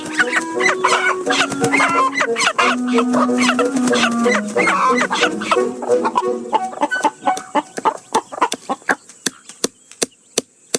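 Chickens cluck and squawk close by in a busy chorus, followed by a run of sharp, rhythmic chopping knocks toward the end.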